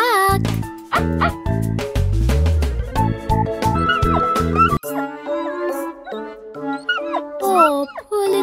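An injured cartoon puppy in the Little Puppy Rescue mobile game yips and whimpers in short, high cries over bright looping game music, loud and close, mixed with brief game effects.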